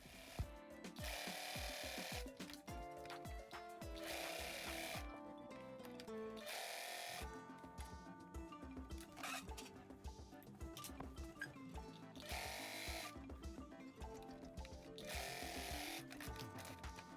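Small sewing machine stitching bias tape around a fabric tool pouch, running in repeated rhythmic bursts with brief pauses between runs, close and steady.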